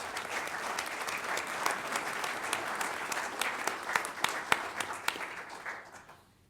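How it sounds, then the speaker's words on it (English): An audience at a recognition ceremony claps in sustained, dense applause at moderate distance, with a few sharper individual claps standing out before the applause tapers off at the end. "Let's give Hadley a big round of applause."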